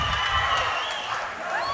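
Crowd at a Coastal Combat 7 MMA fight cheering and shouting in a loud, continuous wash of voices, brief and close, with no clear talk above it.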